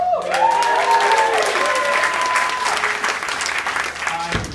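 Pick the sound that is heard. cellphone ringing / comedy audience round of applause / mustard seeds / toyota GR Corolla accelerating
comedy audience round of applause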